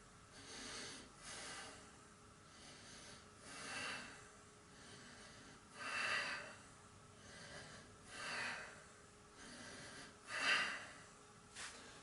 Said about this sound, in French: 5 respirations.